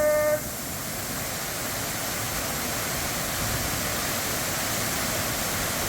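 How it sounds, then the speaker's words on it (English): Loud, constant roar of heavily rushing water, a broad steady wash of sound with no breaks. "this one's actually flowing a lot heavier than most of the other waterfalls"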